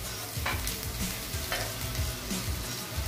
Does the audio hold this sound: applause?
no